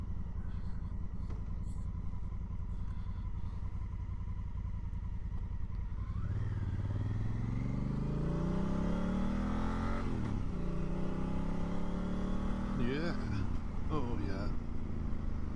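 Honda Africa Twin motorcycle on a commute to work, engine humming steadily then climbing through gears with rising revs and shifts, wind noise around it, a rider briefly exclaiming.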